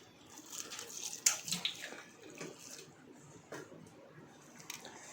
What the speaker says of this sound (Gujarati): હવે તેમાં આપણે પાણી થોડું થોડું રેડીશું